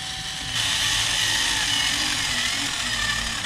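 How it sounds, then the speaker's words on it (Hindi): A power drill bores a hole for mounting a digital voltmeter car battery indicator, starting after a brief quiet moment and then whirring loud and steady to the end. "इसमें पहले एक ड्रिल कर देते हैं इससे"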